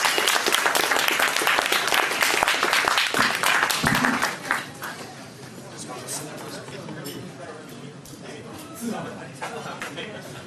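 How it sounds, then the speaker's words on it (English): Loud, dense applause from an audience after a lightning talk at a Tokyo tech meetup, the clapping heavy at first, then thinning into scattered claps and crowd chatter as it fades. "Round of applause"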